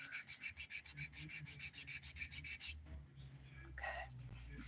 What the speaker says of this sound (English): I'm using the 100 grit side of a file, and it works pretty well, but it's still gentle.